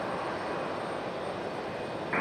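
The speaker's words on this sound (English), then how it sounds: "2688, American Airlines, A321, gonna get a move on, head back to Charlotte, North Carolina." American Airlines Airbus A321 jet departing Raleigh-Durham airport, a steady broad engine roar heard from a distance, constant and unbroken, swelling slightly louder at the very end.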